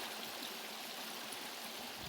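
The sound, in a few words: water flowing along a drainage line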